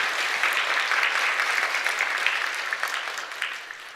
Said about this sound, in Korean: 우리 감사의 박수 한번 드리겠습니다.